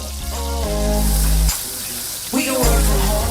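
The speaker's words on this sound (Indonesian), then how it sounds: "Ditumis hingga semua merata dan cumi petenya siap disajikan" Boiled squid sautés in a pan with shallots, garlic, red and green chilies, tomato and stink beans (pete), making a loud sizzle broken by a short pause, with a tonal hum over part of it.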